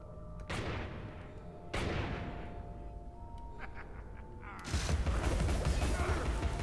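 Cannon blasts in the video game Alice: Madness Returns, several heavy booms in a row with the last one loudest, rolling under game ambience and someone talking.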